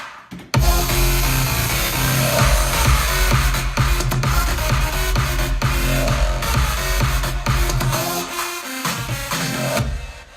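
Sharp claps punch rhythmically through a dense, loud drum track from an FL Studio beat, over thick low bass that runs continuously and briefly thins out near the end.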